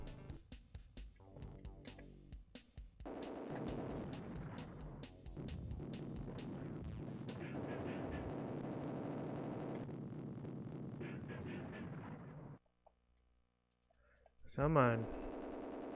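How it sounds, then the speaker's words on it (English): Rockets fire in a rapid volley in the Atari Jaguar game Iron Soldier, a dense roaring burst of explosive game effects that runs for several seconds before cutting out, with a player briefly talking. "We did quite a large volley of rockets."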